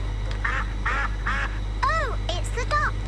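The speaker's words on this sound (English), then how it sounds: "Oh, it's the ducks." Cartoon ducks quack in a garden scene from Peppa Pig, several clear quacks in quick succession, close and loud over a steady low hum.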